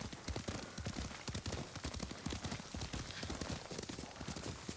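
Horse hooves clip-clopping at a steady riding pace in the video game Ghost of Tsushima, a continuous rhythmic patter of close hoofbeats with faint background sound and no clear talk.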